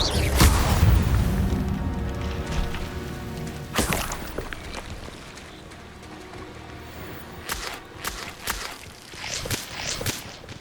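A fire spell cast in Hogwarts Legacy bursts with a loud whooshing boom at the start, followed by a quieter rumbling tail and a few further sharp magical bursts and crackles later on.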